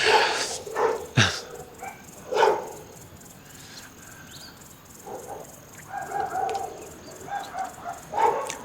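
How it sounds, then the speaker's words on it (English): Several dogs bark in irregular bursts at a moderate distance, a few sharp yelps mixed in, with a person talking faintly between the barks. "all these dogs."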